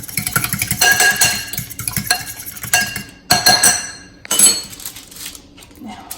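A utensil stirs burger ingredients in a bowl, giving repeated loud clinks and scrapes of metal on dish in an uneven rhythm, close and unaccompanied by talk.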